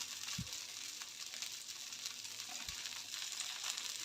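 Sweet corn and vegetable pancake frying in oil on a pan, a steady soft sizzle throughout with two faint low knocks, no talking.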